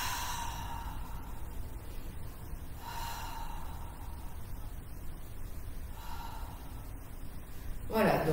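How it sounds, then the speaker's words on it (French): During a live Pilates session, slow deep breaths are drawn through the back of the throat, with three or four faint airy inhales and exhales spaced a few seconds apart over quiet room tone. "sentir l'air qui passe à l'arrière de la gorge. Essayez quelques respirations ensemble."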